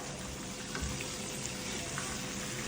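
Fish fries in hot oil with a dense, even sizzle and crackle that stays loud and steady throughout, with a faint shift as the pieces are flipped, no voices.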